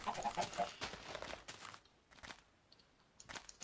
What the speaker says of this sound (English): What you doing there, chicken?